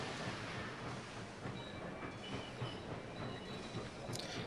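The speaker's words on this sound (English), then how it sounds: "let's see, our train is leaving." A departing train in the railway strategy game Sid Meier's Railroads!, steady rumbling rail noise with faint wheel squeal and clatter, continuous and fairly quiet throughout.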